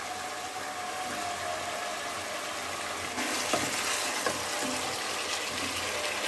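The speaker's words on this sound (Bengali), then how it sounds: "মাংসটা ভালো করে মশলার সঙ্গে কষিয়ে নেওয়া হচ্ছে" Half-boiled mutton sautéing with spices in a kadai gives a steady, moderate sizzle. It grows louder partway through, with a few stirring scrapes.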